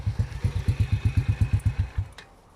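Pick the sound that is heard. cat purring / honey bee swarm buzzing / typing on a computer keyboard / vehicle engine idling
vehicle engine idling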